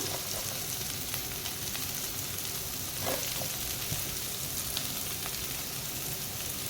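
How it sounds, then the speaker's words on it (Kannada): Onions frying in a pan for gobi manchurian, a steady dense sizzle that runs throughout at a constant level, with a few faint clinks and stirring sounds and no talking. "ಚೆನ್ನಾಗಿ ಫ್ರೈ ಮಾಡ್ಕೊಳ್ಳೋಣ"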